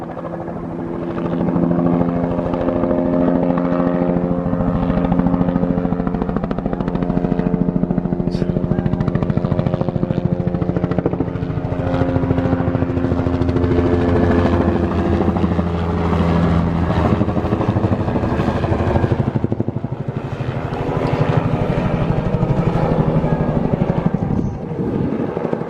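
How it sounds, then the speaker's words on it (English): A black helicopter flies overhead, its loud, continuous rotor thump and engine drone holding steady throughout and swelling slightly as it circles nearby. "It's a black helicopter."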